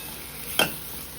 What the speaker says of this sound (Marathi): आता छान आपण मसाले सर्व तेलावर थोडे परतून घेऊया